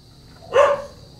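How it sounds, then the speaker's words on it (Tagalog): A single short dog bark or yelp rises briefly in the middle, moderately close, over a quiet background at a home motorcycle workshop where a Mio Sporty 110 is being worked on. "Ingin naman ng aso."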